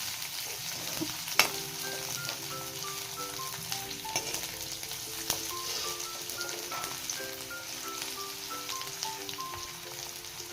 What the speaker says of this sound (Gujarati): ઝીણી સમારેલી 1 નંગ ડુંગળી ઉમેરીશું. તેને પણ થોડી સાંતળી લઈશું.